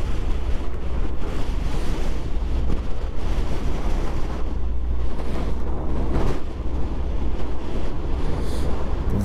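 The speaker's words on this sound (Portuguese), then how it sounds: "O vento aqui, ele tá onipresente." Strong steady wind roars and buffets the microphone outdoors during a masters-category road bike race, a loud continuous rushing with no pauses.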